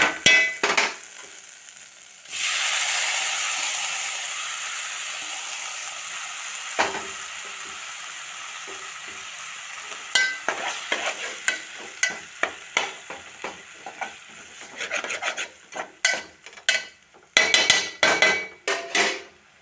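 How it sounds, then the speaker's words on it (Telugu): Ginger paste sizzles in a pan, then a sudden loud burst of frying as tomatoes go in, settling into a steady hiss, followed by repeated clanks of a spoon stirring against the pan. "అల్లం పేస్ట్గా ఫ్రై అయిపోయింది మంచిగా టమాటాలు అయితే వేసేస్తా"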